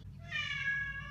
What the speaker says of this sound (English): My cat's meowing over there.